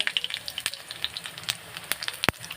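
Garlic tempering crackles and sizzles in hot oil, a steady close spray of small pops and spits with a few sharper snaps, heard alone with no talk.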